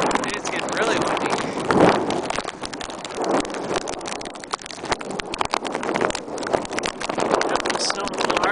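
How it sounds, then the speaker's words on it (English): Strong, gusting wind during a snowstorm in Upstate New York, a loud continuous roar buffeting the microphone with surging swells throughout. "It's getting really windy."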